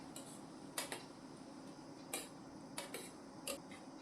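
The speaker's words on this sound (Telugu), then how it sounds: "ఇప్పుడు ఇంకొకసారి మొత్తం కలుపుదాము." A utensil scrapes and knocks against a pan while cabbage tomato curry with curry leaves is stirred, giving scattered sharp metallic clinks at irregular intervals over a quiet background.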